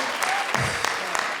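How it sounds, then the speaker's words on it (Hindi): Studio audience applause at a comedy show, a short steady burst of clapping at moderate level. "जोरदार तालियों से स्वागत कीजिए इनका।"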